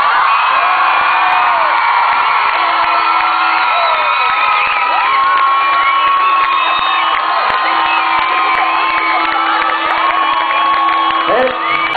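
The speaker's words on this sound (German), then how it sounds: "Geile Abi-Gänge, für den Nummer 1 fetter Applaus auf alle" A crowd of students at a school graduation prank day cheering, whooping and shouting loudly and continuously, a dense roar of many young voices close by.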